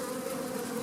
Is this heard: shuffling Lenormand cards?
no